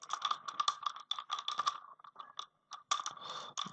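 A Google search for an online font converter is typed on a computer keyboard. Rapid, crisp clicking keystrokes come close up in quick runs, with a short pause midway before the typing resumes. No voices are heard.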